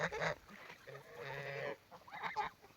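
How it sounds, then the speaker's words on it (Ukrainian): A flock of geese walks in line behind a leading goose, giving a few close, nasal honks in short bursts and one longer call, heard alone at a soft overall level. "Ось іде перша гуска, не гусак."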